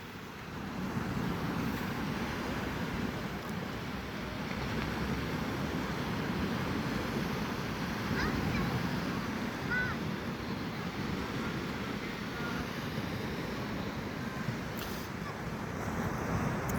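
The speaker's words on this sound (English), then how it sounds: "I'll just come down to enjoy the waves" Sea waves wash onto the beach at La Mata on a quiet evening, a steady broad roar of surf with wind noise, continuous and unbroken with no talk.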